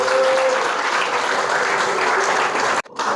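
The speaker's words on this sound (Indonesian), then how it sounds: "Silakan tepuk tangan untuk LP3I Depok hari ini." An audience at a public speaking seminar in a school hall claps loudly and steadily for about three seconds before the applause cuts off abruptly.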